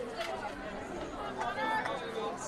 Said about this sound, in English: Crowd gives him hell, as they should.